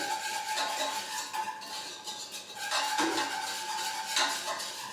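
Flour and milk being whisked into a paste in a bowl, with a brisk, continuous scraping and clinking of the whisk, close and moderately loud, with no talking.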